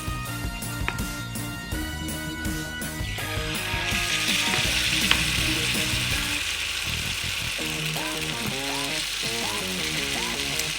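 Kwek-kwek, batter-coated quail eggs, deep frying in hot oil, giving a steady bright sizzle with crackling bubbles that continues throughout, alongside clicking and scraping from handling in the pan.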